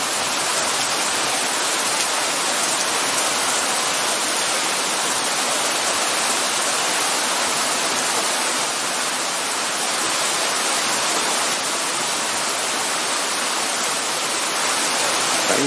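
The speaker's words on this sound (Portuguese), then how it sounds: "É muita chuva, gente. Muita." Heavy rain from a storm pours continuously in a dense, steady roar that stays loud and unbroken throughout, with no voices.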